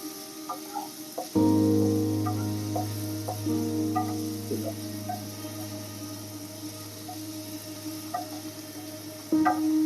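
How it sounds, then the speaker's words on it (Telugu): Frying in a pan until golden, a steady close sizzle with sputtering pops that begins abruptly and continues under faint kitchen clatter. "ఇలా గోల్డెన్ కలర్ వచ్చే వరకు వేపుకోవాలి"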